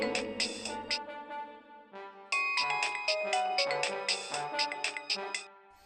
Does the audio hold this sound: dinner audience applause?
no